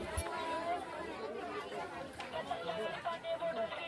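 A dense crowd of pilgrims chatters at the Jejuri Khandoba temple, a constant close babble of many overlapping voices with no single voice standing out.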